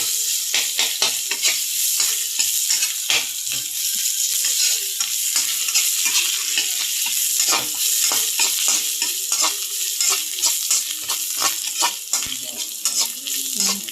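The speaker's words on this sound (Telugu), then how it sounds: "ఉల్లిపాయలు ఫ్రై అయిపోయింది" Onions fry in a pan for an eggplant and fish curry, a steady loud sizzle punctuated by rhythmic spatula taps and scrapes, no talking.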